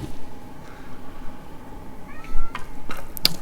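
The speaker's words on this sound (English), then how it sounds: "Don't mind if you hear my cat in the background" A cat meows a few brief times in the background of a room, faint and intermittent over a steady low hum with no talking.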